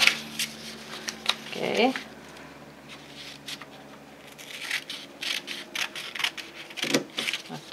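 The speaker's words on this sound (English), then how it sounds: "I'm going to cut each half in half." Scissors cutting pieces of paper in half for a kente cloth craft, with close snips and rustling paper, crisp slicing strokes scattered through the clip and a person speaking briefly.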